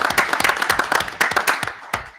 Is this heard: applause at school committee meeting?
yes